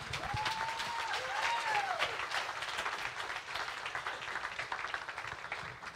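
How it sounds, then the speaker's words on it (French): A church congregation at an Easter service applauding and cheering: sustained clapping from the gathered crowd with whistles and cheers, brief rising whistle tones early on, steady throughout, with some voices mixed in. "Est-ce qu'on peut acclamer encore une fois le Seigneur"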